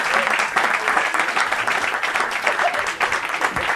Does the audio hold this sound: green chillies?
no